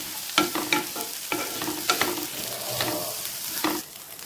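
Curry leaves chicken dry roasting in a pan, stirred with a spatula in quick repeated scraping strokes over a low steady sizzle, close up and without talk.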